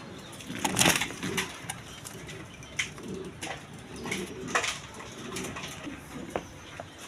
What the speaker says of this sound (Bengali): দর্শকবিন্দু এখানে এক পেয়ার দামাশিল কবুতর আছে